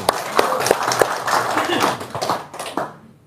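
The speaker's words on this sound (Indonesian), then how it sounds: "Tepuk tangan dulu dong" A small audience at an Indonesian gathering claps hands, scattered, uneven claps rising into a brief patter before fading to quiet, with voices talking over them.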